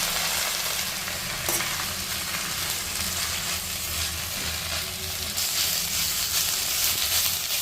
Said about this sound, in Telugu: ఇదే బాణీలో ఇంకొంచెం నూనె వేసుకొని కడుక్కున్న మునగాకును వేసుకోవాలి